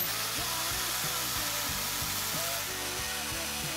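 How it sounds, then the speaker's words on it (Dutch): A twin-blade polyether foam saw cuts through foam at an upholsterer's workbench, a steady loud buzzing drone with a rapid rhythmic pulsing underneath that runs without pause. "Dus polyether wordt altijd gezaagd met een typische polyetherzaag."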